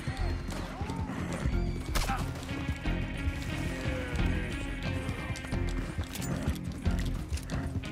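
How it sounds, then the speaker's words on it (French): A galloping horse in Red Dead Redemption 2 neighs over a steady drumming of hooves, with a dense, continuous game soundscape throughout. "T'es un bon cheval!"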